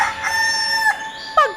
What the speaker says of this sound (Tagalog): Pagtilaok ng manok sa probinsya ng Antique.